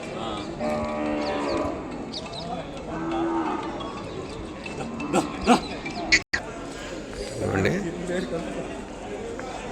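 Cattle moo and low amid a busy crowd of people talking at a weekly livestock market selling Ongole bulls, with animal calls breaking through the chatter now and then.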